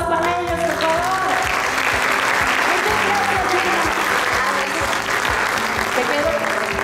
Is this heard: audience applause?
yes